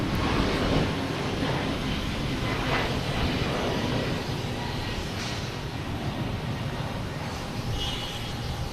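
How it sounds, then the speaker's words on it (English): An Iberia airliner bound for Madrid taxis at Boston Logan Airport, its jet engines a loud, steady roar with a broad rumble that holds throughout. "Here's Iberia, heading back to Madrid."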